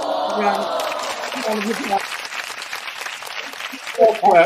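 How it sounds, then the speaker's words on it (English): A few people give a soft golf clap while voices talk and laugh over it, with a brief louder patter near the end. "Golf clap."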